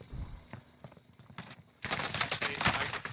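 Gunfire in the video game Warzone: a few scattered distant shots, then a dense burst of rapid automatic fire that keeps going until the end.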